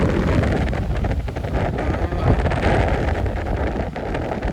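Strong wind sweeps across Dymchurch Beach, roaring and buffeting the microphone with a loud, steady rush that never lets up.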